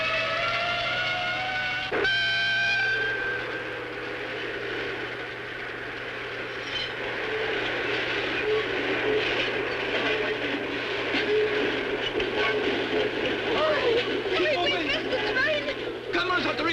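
A train running on rails, a continuous rumbling roll with clatter and squeal, loud and near, with voices calling out over it.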